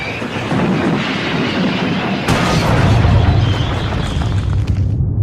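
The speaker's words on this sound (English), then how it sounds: "His driver reduced steam and braked hard." A loud rumbling rush builds, then a sharp burst midway gives way to a heavier roar, like a big locomotive straining to a halt.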